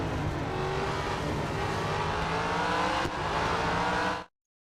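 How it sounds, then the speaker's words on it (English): Old car's engine revving hard in a racing video game, a loud continuous roar with shifting pitch that dips briefly near the end before cutting off abruptly. "old cars sound so good in the game"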